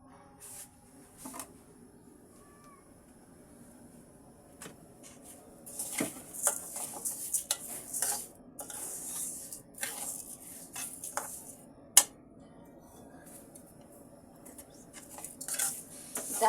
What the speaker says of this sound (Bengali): ডালটাকে আমি সুন্দর করে ভেজে নিচ্ছি।